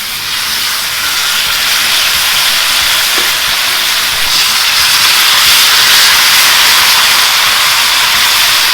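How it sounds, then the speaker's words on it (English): Beef browning in hot oil in a pan for a pot roast, giving a steady, loud, hissing sizzle that holds unbroken from start to finish with no talking. "Here you brown the beef on both sides"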